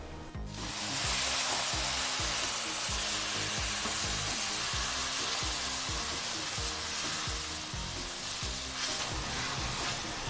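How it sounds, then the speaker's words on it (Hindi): Milk hits hot vermicelli in a pan for sweet seviyan with the heat switched off, letting out a loud, continuous hiss and sizzle that starts abruptly and holds steady, with scraping and stirring beneath it and no talking. "ये देखें, अब हम दूध डालने लगे।"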